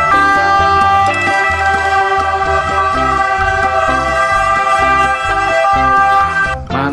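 A toy ambulance siren wails continuously at close range, loud and steady with a harmonic electronic tone over a musical beat, cutting off near the end.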